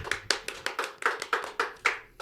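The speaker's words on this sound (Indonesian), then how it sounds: "Tepuk tangan dulu untuk Kalaran." Hands clapping in a steady rhythm, about nine sharp claps over two seconds, close and fairly loud, with no talk. The claps come during an Indonesian talk show about the 96 event.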